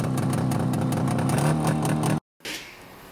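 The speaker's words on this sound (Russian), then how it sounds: "Мотоцикл." A motorcycle engine revs loudly and steadily for about two seconds, then cuts off abruptly, followed by a short burst of lower engine noise.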